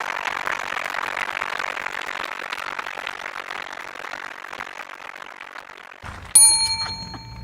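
A bell rings out the 30-second warning at a galley cooking contest during a fleet week event. Clear ringing tones strike near the end after several seconds of busy rattling background noise.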